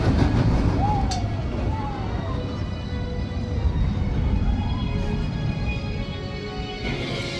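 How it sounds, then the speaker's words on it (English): Mammoth, a mine train roller coaster at Gardaland in Italy, rumbles steadily on its track with a continuous loud, close roar and faint squeals, while people's voices can be heard beneath the noise. "Yeah, this is the mine train."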